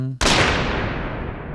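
One sharp gunshot cracks out in a forest, then a long rolling echo slowly fades away.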